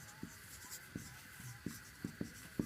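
Chalk or marker strokes on a classroom board during a Class 8 maths lesson, a series of short scratchy taps and scrapes at an irregular rhythm, close and moderately quiet over a faint room hum.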